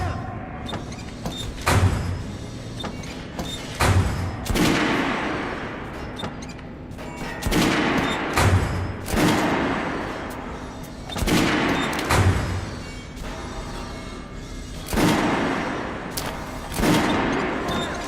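Weapons in Metro: Last Light Redux fire on a shooting range in bursts of sharp gunshots spaced every few seconds, each followed by a decaying rumble, with a voice talking between the shots.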